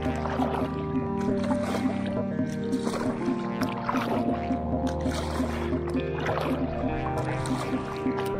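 A kayak paddled along the Black River in Wisconsin, with steady water sloshing and a low continuous hum running throughout at moderate, even loudness.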